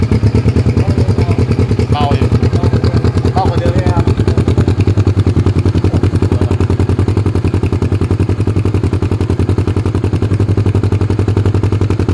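A Kawasaki Vulcan S650 with a Yoshimura exhaust and silencer plug fitted idles loudly and steadily, its exhaust thumping in a fast even pulse, with a voice talking briefly underneath.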